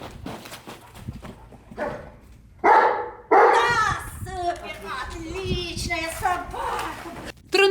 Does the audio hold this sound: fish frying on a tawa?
no